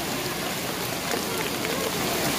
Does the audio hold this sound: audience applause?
no